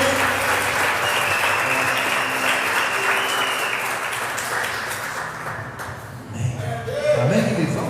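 A church congregation claps together at a celebration service, with dense sustained applause that fades slightly, then swells again near the end, with some voices and crowd noise mixed in.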